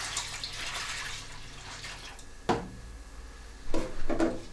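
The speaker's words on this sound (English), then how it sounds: "The desired quantity of cold water is added first." Cold water poured into a disinfectant instrument bath, a soft continuous splashing trickle with a few louder bursts and knocks of the container, close by and without speech.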